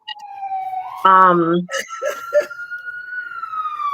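A siren wails in the background, a steady high tone rising and holding, while a person talks briefly over it.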